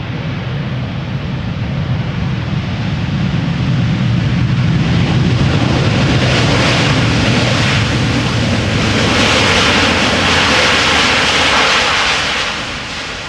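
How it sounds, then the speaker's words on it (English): A Delta Airlines Airbus A350-900 jet lands at Amsterdam Schiphol Airport with its thrust reversers applied, making a loud, sustained roar that swells to a peak midway and then slowly eases off. "Delta Airlines Flight 74, A350-900, arriving from Atlanta"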